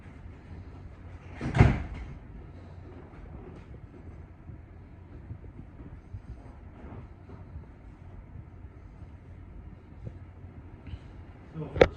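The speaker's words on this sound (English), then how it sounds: "close the door here" Door on a model railroad club's train closing with a single sharp thump, followed by quiet rumbling background and a second faint knock near the end.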